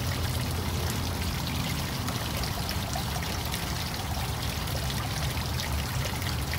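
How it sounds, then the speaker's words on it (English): Water squeezed through a filter pours into a glass in a steady, loud stream, a continuous rushing trickle with no pauses and no voices. "I'll go ahead and squeeze this water through the filter and into the glass"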